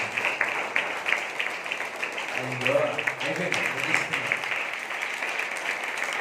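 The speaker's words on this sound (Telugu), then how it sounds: "చప్పట్లు కూడా దేవునికి స్తుతిద్దాం." A church congregation at a Good Friday service claps in praise, a steady, dense wash of applause that fills the whole stretch, with a voice briefly audible in the middle.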